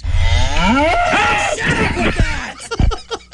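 A cow lets out a long, loud moo up close, its call rising and falling, followed by a few short grunting sounds.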